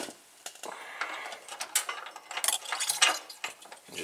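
Ratchet tightening a nut on a trailer hitch bolt of a 2018 Ford Escape, quiet irregular metallic clicks and clinks in short bursts, near and soft.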